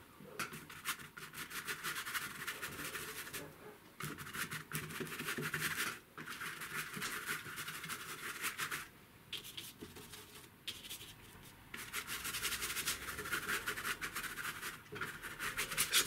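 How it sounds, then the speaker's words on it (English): A paintbrush scrubs acrylic paint across rough paper, giving a dry rasping scratch in repeated strokes with short pauses, close and fairly quiet. "Quite rough, this paper, as you can probably hear."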